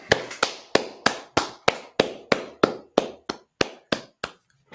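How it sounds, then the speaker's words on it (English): About fifteen loud, evenly spaced claps in a slow group rhythm, each sharp and close with a short echo behind it, ending in a brief pause before a final clap. "All right, clap it up."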